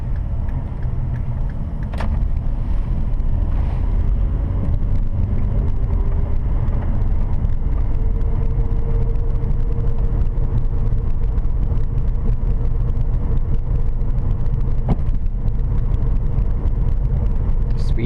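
Car driving through a left turn on a 40 km/h road, a steady loud low engine and road rumble from inside the cabin with a couple of faint clicks and knocks.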